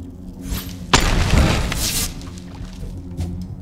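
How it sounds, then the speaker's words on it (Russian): A wall smashed open in The Darkest Tales video game: one loud crashing break near the start, then crumbling debris and rumbling that fade into steady game ambience with low droning music underneath. "Мне так нравится пробивать стенки вот эти."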